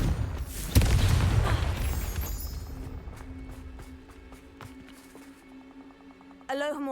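A Confringo fire spell bursts in Hogwarts Legacy with a sharp, heavy boom, followed by a rumbling roar that fades over several seconds into scattered crackles and a lingering tone, then a bright magical chime at the end.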